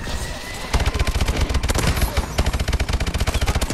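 Rapid automatic fire from a sentry gun in Call of Duty: Advanced Warfare multiplayer, a loud continuous stream of sharp shots with a short quieter lead-in, then bursts rattling on close by.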